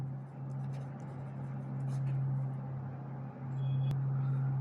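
Writing on a board during a math lesson produces faint, scattered scratching strokes under a constant low electrical hum and room noise.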